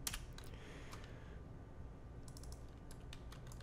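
Someone types on a computer keyboard in the Far Cry 5 map editor. Close, crisp key clicks come in short irregular bursts with quiet pauses between them.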